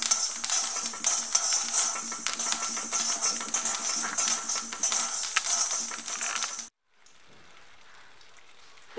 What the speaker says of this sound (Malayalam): കടുക് ഉലുവയൊക്കെ ഇതുപോലെ നന്നായി പൊട്ടി വരും.